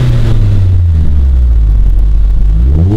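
A 2015 Scion tC on its stock exhaust is revved up close and loud: a deep rumbling engine note that sinks, holds low, then climbs again near the end, with no talk.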